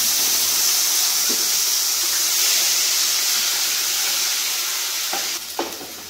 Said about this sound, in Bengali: দিয়ে দিচ্ছি পেঁয়াজ রসুন।